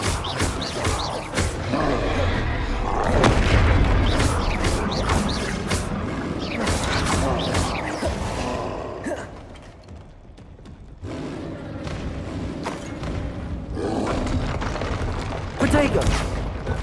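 Spell explosions in the Hogwarts Legacy video game, a long run of booming blasts and crashes in rapid succession, loud and dense, easing briefly near the middle before flaring up again, with a voice casting spells throughout.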